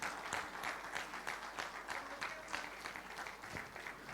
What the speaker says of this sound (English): a huge, huge round of applause for Srimati Radhamani right here,